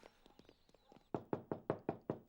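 Knocking on a door comes first as a run of soft, quick taps, then six loud, evenly spaced hard knocks close by, with no speech.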